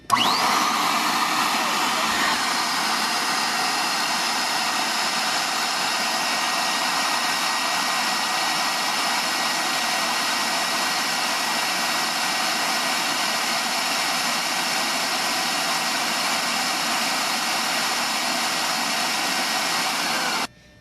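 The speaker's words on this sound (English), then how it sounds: "We're going to put on our vacuum." A powerful vacuum forming machine motor, making dental whitening trays, roars at a constant, steady pitch for a long stretch, loud and close, before cutting off abruptly at the end.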